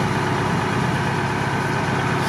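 A Unimog off-road truck engine idles in a steady, loud, unbroken rumble close by, with no speech over it.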